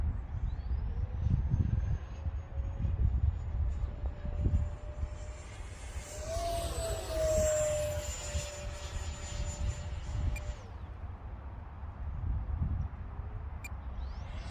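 Freewing 64mm F-22 RC jet with a 12-blade X-fly electric ducted fan, flying in wind: a steady high-pitched fan whine sweeps past with a rising and falling pass, over gusty wind rumble outdoors.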